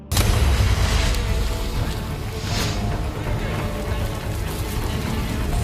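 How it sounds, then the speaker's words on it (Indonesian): A gas cylinder explosion in a film erupts as a heavy, roaring blast with a dense rumbling wash that sustains loudly for several seconds, backed by a cinematic soundtrack. "api yang menyala justru menyambar tabung gas yang berada di dekat situ hingga akhirnya meledak"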